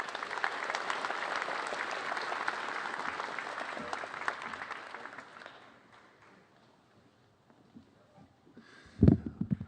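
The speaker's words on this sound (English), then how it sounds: "Please give all of these scholars a round of applause." Audience applause at a middle school promotion ceremony, a dense round of clapping that holds steady for several seconds, then thins and fades out, followed by a louder bump near the end.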